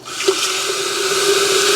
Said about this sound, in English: Let's pour ourselves a cup of tea.